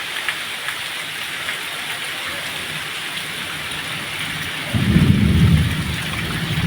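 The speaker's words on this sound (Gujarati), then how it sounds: "વીજળી પણ થાય ને કડાકા ભડાકાય છૂટે" A steady, heavy rain hisses on surfaces in the Gir region, then a deep rumble of thunder rolls in near the end, loud and close.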